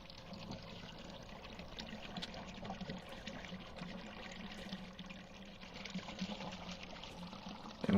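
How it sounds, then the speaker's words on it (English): Cement pouring in the construction video game CONstruction Ltd, a continuous soft liquid gushing and trickling stream, quiet and steady, with a louder bump at the very end and no speech. "we'll start pouring cement in"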